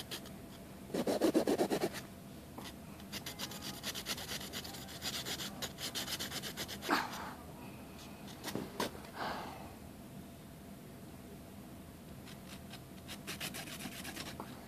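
A sharp knife cuts and rasps through fiberglass during bow-making, producing quiet, close scraping strokes with a louder rough burst early on and scattered short scrapes afterward, no voices.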